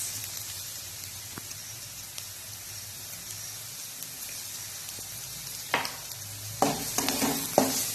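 Chopped garlic and onions frying in a pan for a horse gram dal rasam, a steady soft sizzle with louder stirring scrapes and crackles near the end, no talk.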